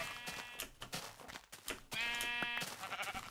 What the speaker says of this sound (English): Didn't actually want to shoot that sheep.